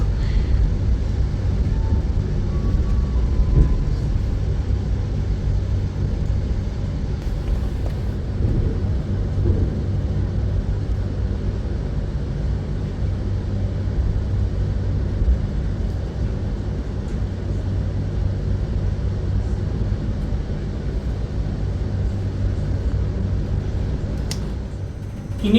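The Argo Merbabu passenger train pulls away from the station, heard from inside a carriage. A steady low rumble of wheels and running gear continues evenly for about 25 seconds with no speech.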